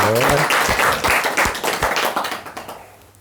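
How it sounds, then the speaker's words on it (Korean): Clapping from a Korean lecture audience, a burst of distinct hand claps that starts strong after a brief voice and then thins out and fades over about three seconds. "박수 한번 부탁드릴까요?"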